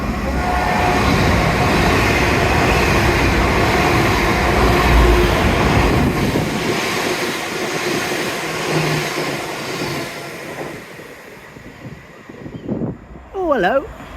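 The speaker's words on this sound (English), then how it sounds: "Oh, that was a happy train" A train rumbles past at close range, loud and steady, then fades away as a voice calls out briefly near the end.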